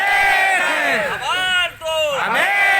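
Large crowd at a gathering shouting back in unison in response to a speaker's call, loud sustained massed voices rising and falling close by.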